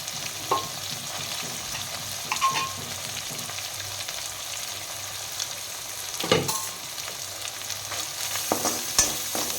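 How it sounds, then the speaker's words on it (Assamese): Scraping spatula strokes and a steady low sizzle as rice is stirred in a pan with crab fat, with a few louder clanks scattered through. "অকণমান ভাজি ল'লোঁ আৰু এতিয়া মই ইয়াতে দিম এয়া ভাত"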